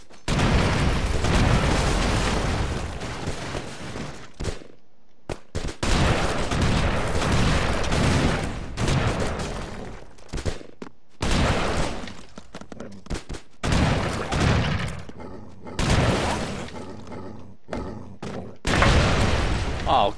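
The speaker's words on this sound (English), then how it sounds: "I wasn't that close to the explosion." Broforce video game combat fills the clip with dense rapid gunfire and booming explosions in long loud bursts, broken by a few brief pauses, with a player's voice mixed in at times.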